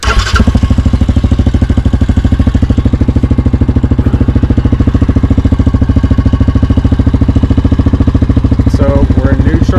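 A 2022 Yamaha Grizzly ATV engine idles steadily close by, a loud, even, low-pitched rhythmic thrum with someone talking briefly near the end.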